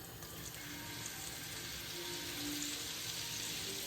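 Shrimp frying in olive oil in a pan, a steady, dense sizzle that holds evenly from start to finish without a break, fairly close and moderately loud, with no voices.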